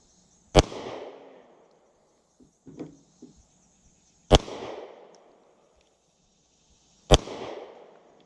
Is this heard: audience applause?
no